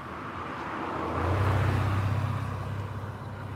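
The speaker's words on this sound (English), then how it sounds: "We got RX-7 right here." A Mazda RX-7 sports car idles and lightly revs at a highway parking area, a low engine rumble that swells briefly mid-clip over steady background traffic noise, with no talking.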